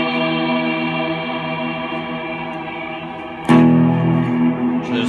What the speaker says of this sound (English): So there's a lot more low end in the reverb signal